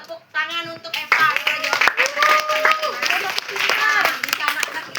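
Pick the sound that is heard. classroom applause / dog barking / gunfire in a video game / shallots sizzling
classroom applause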